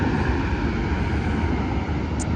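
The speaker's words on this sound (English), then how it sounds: "there are planes in the background" Aircraft passing overhead somewhere near a base-model Toyota Corolla LE rental car, a steady broadband engine roar that holds loud and even throughout with no voices over it.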